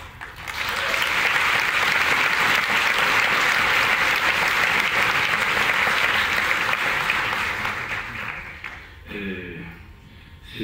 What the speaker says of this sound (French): Merci d'applaudir notre jury en métrage.